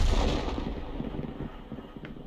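An M40/M43 self-propelled artillery gun fires a HESH shell in a video game, a single heavy boom followed by a low rumbling decay, loud and close.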